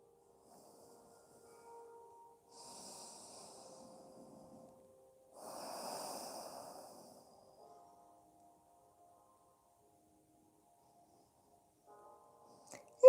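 Slow breaths drawn through the nose during a yoga stretch, two soft drawn-out airy passes separated by quiet, close and gentle with no talking.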